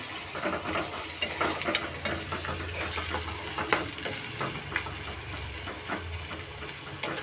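Chopped onions sizzle and fry in a pan for an ivy gourd (arati kaya) fry, with a steady frying hiss and repeated scraping stir strokes throughout, close and moderately loud.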